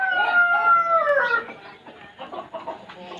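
Aseel chickens on a poultry farm cluck and call loudly and close by, with a drawn-out crowing-like cry at the start followed by busier overlapping clucks.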